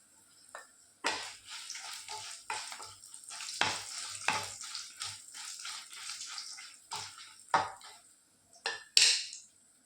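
Chili is stirred into hot oil for a Mangalore-style mutton gravy, giving bursts of close sizzling and frying hiss broken by clattering stirs against the pan.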